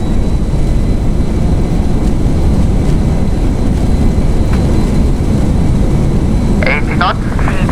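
An Air China airliner rolls out after landing at Macau with reverse thrust and decelerating, a loud, dense engine roar filling the cabin steadily throughout, with brief cockpit speech and callouts near the end.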